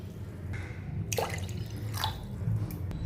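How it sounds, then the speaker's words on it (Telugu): Water pours into a glass in a short, close trickle with a few splashy drips and gurgles over a low background hum, with no voices. "ఇప్పుడు ఈ గ్లాసులోనే 2 గ్లాసులు వాటర్ పోసుకోవాలి"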